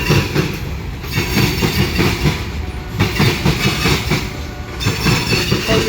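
Train passing at night in Lima, Ohio, loud and close, wheels clattering in a rhythmic clickety-clack with bursts of metallic squeal, steady throughout.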